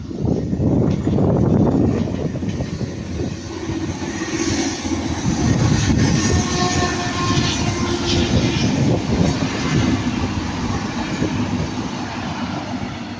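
A Class 802 train arrives at Ardwick, a loud continuous rumble with engine drone and rail noise that stays steady, with no voices.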